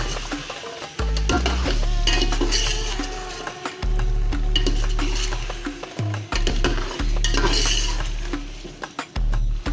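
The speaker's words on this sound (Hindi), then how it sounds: "ये डाल के हम थोड़ा सा भूनेंगे इसे भी, गोश्त को भी, मज़ेदार सा फ्लेवर आ जाएगा।" Meat frying and being stirred in garlic-ginger masala in a pot, with repeated loud scraping and clinking of a utensil against the metal over a steady sizzle.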